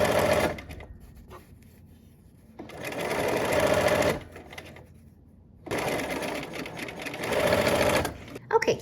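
Domestic sewing machine stitching curved seams in fabric, running in two long bursts with quiet pauses between, with someone speaking over the stitching.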